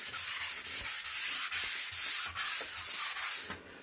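A Surf Prep Rad Pad sanding a painted wood nightstand, loud close rhythmic rasping in repeated back-and-forth strokes with brief breaks between passes, no talking.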